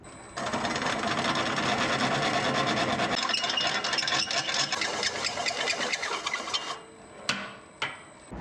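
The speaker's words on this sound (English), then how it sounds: "and drill a bigger hole on this side" A drill bores a larger hole through a metal mounting plate for a two-stroke mini tank build, giving a steady loud grinding whir that eases off near the end, followed by a couple of sharp clicks.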